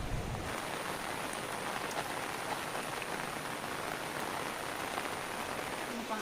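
Heavy rain pouring down in a cool mountain village, a dense, steady hiss of drops drumming on surfaces, continuous and even with no gaps, no talking over it.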